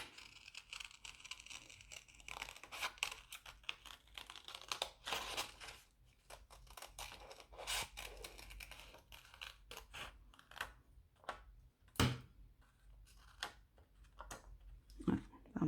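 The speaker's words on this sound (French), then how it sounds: "Et maintenant, on va venir découper nos cœurs." Paper hearts are cut out for a handmade card, with quiet snipping scissors and rustling, crinkling paper in irregular bursts, faint and close.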